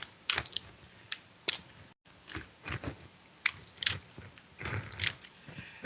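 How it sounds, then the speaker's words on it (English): A deck of tarot cards is shuffled close by in quick irregular bursts of crisp riffling clicks and snaps with brief pauses, fairly quiet, with no talking. "I'm going to shuffle these again."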